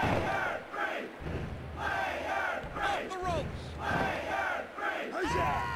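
Crowd noise from the arena audience in the 1998 wrestling game WWF War Zone, a steady roar of shouting and chanting that swells and dips throughout, with a few higher yells standing out and no talk over it.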